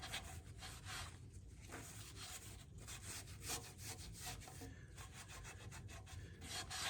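Dry newspaper rubs and scrubs across a wood stove in quick back-and-forth strokes, a faint, close, papery scraping that repeats steadily without any talk.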